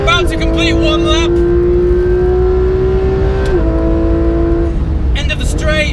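An RS car finishing a lap on a race track, its engine holding a steady loud drone near the listener, the pitch stepping down briefly near the end as it shifts or lifts, with no talking over it.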